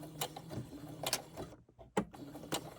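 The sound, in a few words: sewing machine stitching a fabric bookmark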